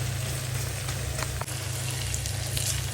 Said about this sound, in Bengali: এভাবে করে আরও ভাজা ভাজা হবে মাছগুলো